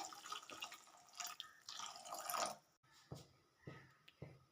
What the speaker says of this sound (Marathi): थोडंसं पाणी घालून घेते।